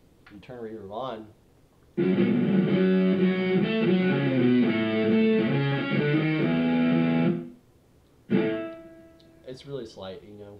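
Electric guitar chords ring out with a light reverb that softens their edges, a sustained passage and then a short second phrase.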